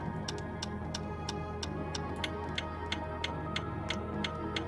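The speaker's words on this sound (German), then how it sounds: "Und ganz oben ist das Ticken der Uhr." A clock ticks in the video game We Were Here Together, with sharp, evenly spaced clicks at about two per second over a low ambient hum, clear and alone.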